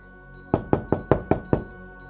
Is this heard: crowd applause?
no